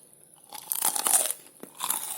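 Someone bites into crispy fried tapioca tofu (tahu aci) and chews it, with close, crackly crunches in a couple of bursts.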